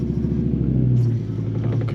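A 2006 Dodge Ram SRT10 Viper truck with its V10 engine rumbles steadily up close as it pulls away, a low throaty drone with a brief rise in pitch midway.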